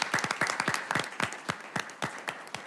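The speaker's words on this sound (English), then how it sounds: "So let's give Mr. Martin Hanley a round of applause." Scattered hand claps from a small audience at a school board of education meeting, welcoming a newly named director; individual claps ring out in an uneven, sparse rhythm with no voices.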